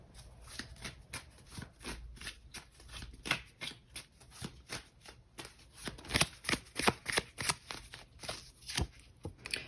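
Tarot cards shuffled by hand in a dense run of crisp riffling flutters and slaps, close and fairly quiet, growing brisker toward the end with no talking.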